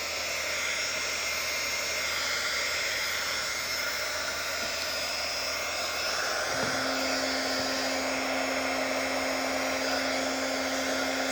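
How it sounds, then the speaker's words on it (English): A heat embossing tool blows hot air with a steady, close, roaring whoosh, and a low hum joins partway through and persists to the end, with no talking. "And I like to heat my embossing tool up."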